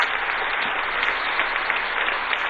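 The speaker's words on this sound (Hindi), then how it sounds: "एक बार कृष्ण कुमार का दोनों हाथ उठा के ताली बजा के स्वागत कीजिए, अभिनंदन कीजिए।" Crowd clapping to welcome Krishna Kumar, a steady, even wash of many hands applauding throughout, with no voices over it.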